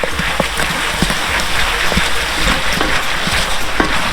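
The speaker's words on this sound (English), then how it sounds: "All right, we're starting to pop." Cherry and cinnamon glaze popcorn popping in a pot, a dense, steady patter of small pops and crackles close by with no talking over it.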